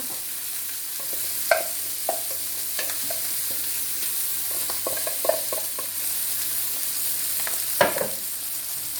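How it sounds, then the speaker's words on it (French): Chopped parsley, garlic and half an onion stir-fried with browned turkey paupiettes in a hot pan, a steady close sizzle broken by occasional scraping stirs and clacks of a utensil. "Je vais commencer à mettre ma garniture. On va commencer par le persil haché avec l'ail."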